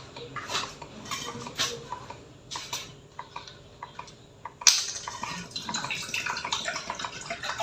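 Dishes, pots and cutlery being washed in a home kitchen during breakfast cooking, with scattered clinks and clatters of plates and utensils alongside running water, close and moderately loud, with a sharper clatter midway.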